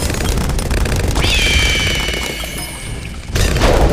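Turbo damage laser bombs go off in Bloons TD 6, a continuous roar of explosions with a rising laser-like tone in the middle and a fresh loud burst at the end.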